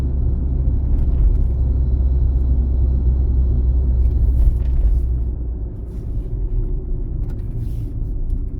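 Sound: car pulling out on an exam route

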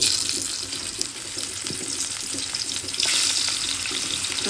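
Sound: hilsa fish frying in pan

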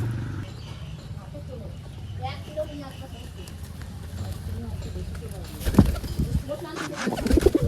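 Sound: pigeons cooing

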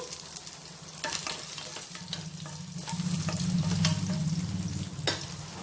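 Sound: dried red chillies and garlic spluttering in hot oil

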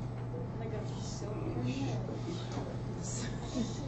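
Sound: people imitating a curtain rustling

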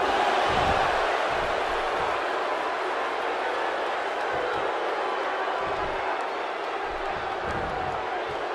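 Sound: crowd cheering in the WWE 2K16 video game

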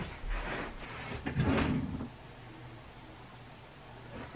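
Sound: drawer opening and closing

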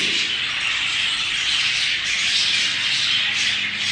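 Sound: pet birds squawking

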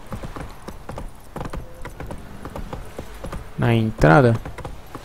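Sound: horse hooves clip-clop in video game The Witcher 3

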